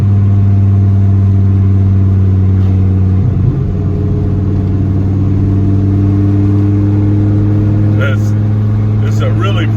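A 1993 Dodge Viper RT/10 driving, its big engine giving a steady low droning hum from inside the car with a brief surge partway through, continuous and loud.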